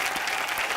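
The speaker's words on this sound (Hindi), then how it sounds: "एक बार शान और राधिका के लिए जोरदार तालियां" A studio audience at a comedy talk show claps for guests Shaan and Radhika, a short burst of dense applause heard alone.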